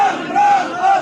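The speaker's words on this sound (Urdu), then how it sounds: "سب نے میرے ساتھ مل کے ایک نعرہ لگانا ہے" Crowd at a Pakistan Tehreek-e-Insaf political rally in Mansehra shouting a slogan in unison, a loud massed roar of voices rising in two sustained swells with a dip between.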